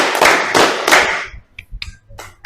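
A classroom of students clapping in a counted pattern: three loud, ragged group claps in quick succession, then a few scattered, fainter claps trailing off.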